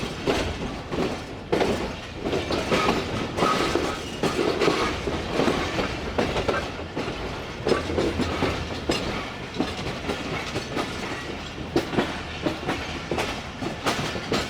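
Tezgam passenger train pulling out of Karachi past the rail yard, with a steady loud rumble and clickety-clack of wheels on the track, some metallic rattles and no voices.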